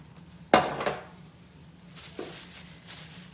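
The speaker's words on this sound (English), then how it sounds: "Gonna put it over here in the cake pan." Cookie dough for a chocolate chip cookie cake pressed into a 9-inch round cake pan, giving a sharp metallic clank followed by a couple of softer knocks and light scraping, close by in a quiet room.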